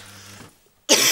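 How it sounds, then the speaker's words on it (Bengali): A single sharp, close cough bursting out after a quiet pause, preceded by a faint low hum. "কাশিটা বাঁধালে কি করে?"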